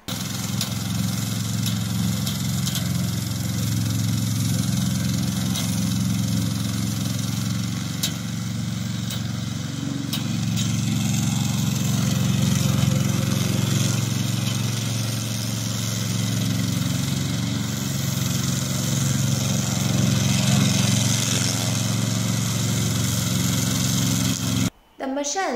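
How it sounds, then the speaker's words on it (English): A cordless remote control robot lawn mower runs steadily with a continuous low engine-like hum and whine, fairly close and constant throughout, cutting off abruptly near the end. "Today, I will introduce our remote control lawn mower."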